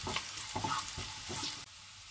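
Ginger and garlic fry in a pan, giving a steady close sizzle with soft rhythmic stirring scrapes about every half second, cut off briefly near the end.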